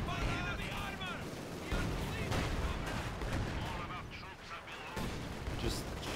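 Gunfire and artillery in the World War II strategy game Company of Heroes 2, with rifle shots, bursts and heavy booms layered into a dense battle din, while a voice talks over it.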